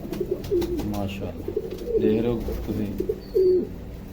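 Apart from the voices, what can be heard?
pigeons cooing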